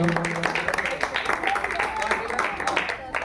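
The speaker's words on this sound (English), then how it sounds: "Please clap for Iram." Audience applause for a student speaker at a school Independence Day celebration, a mix of scattered claps with speech and background voices over it throughout.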